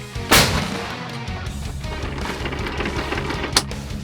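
An artillery gun fires with a sharp, loud blast near the start, followed by rumbling echo and outdoor noise, then a second fainter crack, on the Borova front.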